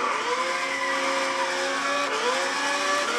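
A race car engine in a Gran Turismo 6 drag race revs steadily with rising and falling harmonic whine, loud and continuous throughout, with no talking.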